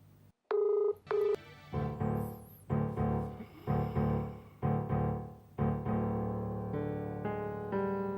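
A phone is dialed: a series of separate electronic tones beeps one after another in an uneven rhythm, close and clear, with no voices.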